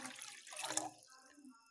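Water poured into a cooking pot on a stove to make karpooravalli herbal tea, a brief soft splashing stream that swells and then trickles off, fairly close and quiet with no voices.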